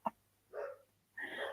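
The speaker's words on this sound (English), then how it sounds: "Sorry about my dogs," Dogs bark indoors in the background: a sharp single yip followed by two longer, moderately faint barks spaced a fraction of a second apart, with no talk over them.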